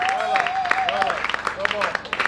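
Cheering crowd at a pastor's 50th birthday reception, with continuous clapping, shouts and voices mixing together at close range, loud and lively throughout.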